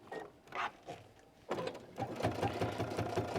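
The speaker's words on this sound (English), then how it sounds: "with matching thread you'll maybe stitch it back and then raise the presser foot." A home sewing machine stitches fleece with matching thread, starting after a few soft handling clicks and then running in a fast, steady, close mechanical rattle.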